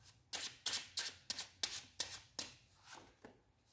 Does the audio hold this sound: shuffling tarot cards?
yes